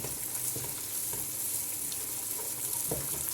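Two beaten eggs sizzle and fry steadily in a pan with a constant close hiss, with a few faint clinks of a utensil.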